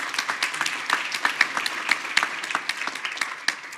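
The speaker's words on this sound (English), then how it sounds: "Can we please give her a round of applause?" Dense, steady applause from a conference audience at a restorative justice event in a law school hall, many hands clapping continuously at moderate volume with no voices over it.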